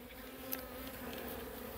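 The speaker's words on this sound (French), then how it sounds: "je tape les abeilles dans la ruche" Honey bees droning steadily inside a hive as the colony is tapped to move them, a continuous close buzzing hum with no voices.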